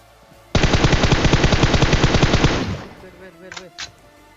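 Sustained automatic gunfire in the video game PUBG, a loud rapid burst of about two seconds with an even rhythm, followed by fainter trailing game sounds and a couple of short high-pitched effects.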